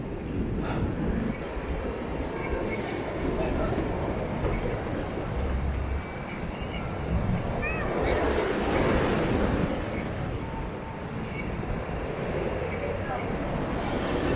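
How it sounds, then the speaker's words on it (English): Sea waves breaking on Blackpool beach, a steady broadband surf wash with swells of louder crashing, mixed with wind buffeting the microphone throughout. "show you these waves."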